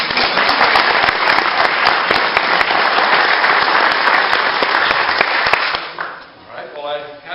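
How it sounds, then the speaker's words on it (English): Audience applause at a light rail forum, a dense, loud wash of clapping that holds steady for several seconds, then thins and fades, with a voice beginning near the end. "a little bit of applause"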